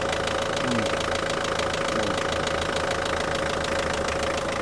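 A Mitsubishi pickup truck's engine idles steadily after starting, a loud, continuous close rumble with a faint knocking pulse and brief voice sounds over it.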